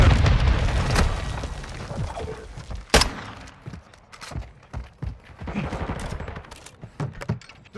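Bursts of gunfire and explosions in a Call of Duty: Modern Warfare II multiplayer match, sharp loud cracks and booms scattered irregularly, some close and some farther off, with brief radio-style callouts in between.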